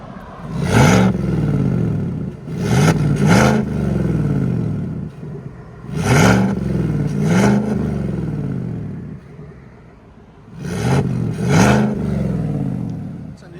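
A 2024 Chevy Silverado RST with a 5.3L V8 and a Borla Atak LS crate muffler revs in three bursts of paired throttle blips, each a deep, loud exhaust roar falling back to a rumbling idle between them.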